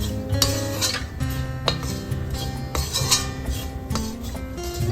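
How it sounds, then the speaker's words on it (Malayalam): Chilli, fennel, garam masala and turmeric powders being sautéed in a pan for mutton roast: a steady run of scraping spoon-on-metal strokes and clinks, close and fairly loud, with no talking. "ഇത്രയും കൂടി ഇട്ടൊന്ന് വഴറ്റാം. അതിൻ്റെ പച്ചമണം ഒന്ന് മാറണം."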